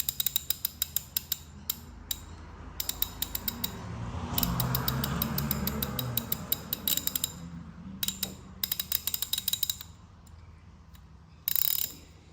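Close, crisp ratchet wrench from a socket set clicking in quick repeated bursts separated by short pauses, with a brief steadier mechanical rasp in the middle.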